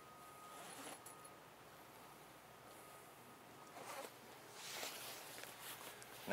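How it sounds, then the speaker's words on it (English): The last zipper on an AVX Sun-Top bimini boot is drawn closed. It makes a few faint, soft zipping strokes outdoors, with no talking. "Then your 3rd zipper will be here on the last one,"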